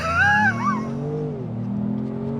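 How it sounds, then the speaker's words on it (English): A 2025 Ford Maverick Lobo sport truck launches hard, its engine note rising in a loud rev with a brief tire-squeal whine before settling into a steady drone as it picks up speed. "Now, as usual, I want to start off with my acceleration test."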